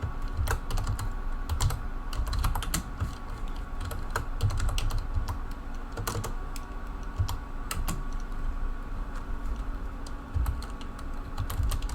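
Keys clatter on a computer keyboard during a Windows Whistler install in VirtualBox, a quiet, steady run of irregular clicks and tapping bursts for twelve seconds with no one speaking.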